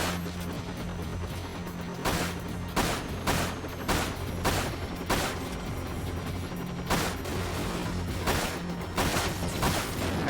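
Rapid bursts of gunfire from Final Fantasy VII Dirge of Cerberus, with loud sharp shots in quick clusters over a constant droning game background and no voices.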